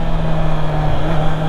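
A 2019 Honda CB650R roadster motorcycle engine pulls hard under acceleration, a loud, steady, close-up drone with a strong low hum and no voices.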